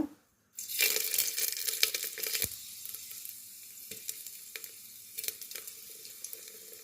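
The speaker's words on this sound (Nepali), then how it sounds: "मैले यहाँ तेल 1 चम्चा हालेको छु, मेथी 1 चम्चा" After a brief hush, fenugreek seeds hit hot oil and burst into a loud, close sizzle with crackling pops, easing to a steady frying hiss with scattered sharper spits for mustard greens dal.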